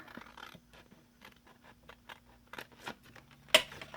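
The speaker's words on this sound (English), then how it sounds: "I'm going to kind of come in here at an angle and cut that piece off." Scissors cut at an angle through paper for a junk journal, with quiet scattered snips and rustles close by and one sharper, louder snip near the end.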